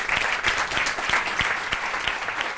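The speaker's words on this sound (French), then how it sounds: "Je vous demande d'applaudir la rubrique du professeur Odysseus" Studio audience of the French show Kandidator applauding for the Professor Odysseus segment: steady, dense clapping with sharp individual claps standing out, sustained at even loudness throughout.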